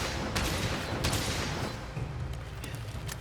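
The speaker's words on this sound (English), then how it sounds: "Let's change to spread ammo, because that is like a shotgun." Spread ammo from a light or heavy bowgun fires in the Monster Hunter Rise training area, a dense crackling burst of shotgun-like blasts that runs continuously and loudly, with several sharper reports standing out.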